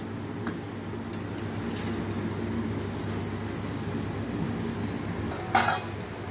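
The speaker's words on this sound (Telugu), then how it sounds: "చిన్న చెంచాతో ఇదిగోండి ఇలా కలిపేసి అట్టే పెడుతున్నాను" A small spoon mixing ingredients for a spinach and milk curry, with a steady low background hum, soft scraping and a sharper clink of metal near the end.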